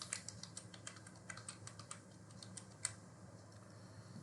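Faint, quick typing on a computer keyboard, a continuous patter of soft key clicks with one sharper tap partway through, over a quiet room.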